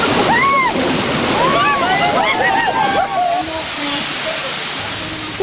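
Rushing river water on a whitewater tubing run in Sarangani, a steady loud wash of rapids with splashing, heard under a narrator's voice throughout.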